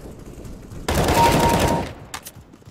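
Rapid automatic gunfire from a gun in the CS:GO video game, a single loud burst lasting about a second, followed by a couple of faint clicks and quieter game sounds.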